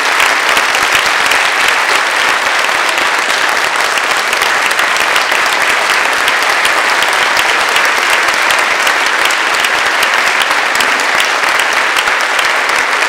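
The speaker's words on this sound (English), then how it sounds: "Sometimes in this business you don't always get applause, so I'm grateful for it when it happens." A packed room applauds to welcome a congressman at an event, loud dense clapping that holds steady and unbroken from start to finish, close and full.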